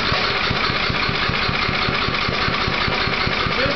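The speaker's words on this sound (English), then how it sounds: "Notice how this thing is running on a very low idle." A small hydrogen-converted generator engine runs at a very low idle, a steady loud mechanical drone with a rapid, even pulsing firing rhythm and no pauses.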